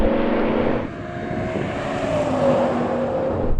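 BMW M5 V10, Mercedes-AMG E55 and Audi RS6 accelerating hard side by side in a rolling race from 50 mph, a loud, continuous engine roar with steady harmonic drone and wind rush, close to the microphone throughout.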